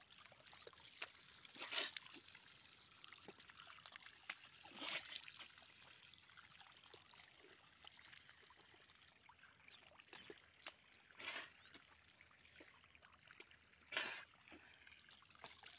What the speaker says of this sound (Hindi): यहाँ देखिए एकदम बह रहा है पानी, बर्बाद कर रहे हैं सब पानी